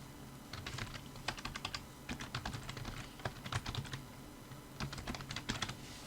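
Keys clatter on a computer keyboard in quick irregular bursts of typing, close and fairly quiet, with short pauses between runs of keystrokes and no talking.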